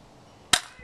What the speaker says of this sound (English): I'll shoot this one before it blows over.